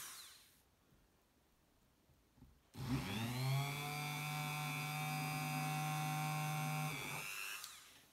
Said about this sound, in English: I'm going to have to resort to a Dremel because that just wasn't going well.